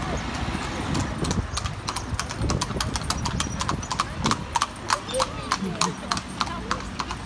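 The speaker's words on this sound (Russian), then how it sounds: "Одна беленькая, другая черненькая лошадка." Horses, one white and one black, clip-clop along a street in Antalya, Turkey, with steady close hoof strikes over traffic and town bustle while people talk nearby.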